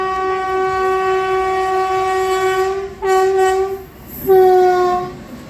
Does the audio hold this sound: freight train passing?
yes